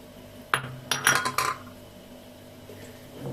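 Fresh ginger being struck and crushed on a stone grinding slab, a few sharp hard knocks in quick succession, close and moderately loud, with a quieter knock afterward.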